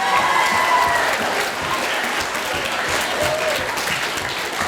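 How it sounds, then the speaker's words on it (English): An audience at a middle school band spring concert applauds steadily, a dense wash of clapping hands that fills the room from start to finish without any talk over it. "Let's give them a huge round of applause."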